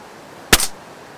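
A single gunshot in a video game, one short, loud, sharp crack with a brief tail, heard alone against quiet.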